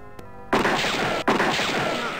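Gunfire in the Freddy Pharkas computer game: two sharp blasts, one at about half a second and another near the 1.25-second mark, each trailing into a loud, noisy wash, with no voices.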